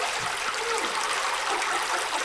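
A waterfall feeding a lake in Karijini rushes in a steady, bright broadband wash, close and continuous with no voices.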